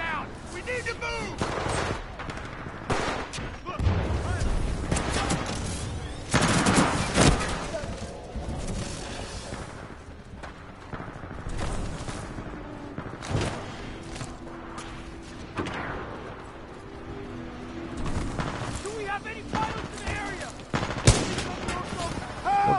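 Video game gunfire: repeated bursts of automatic shots and single thuds scattered through a long stretch, with a person talking over much of it.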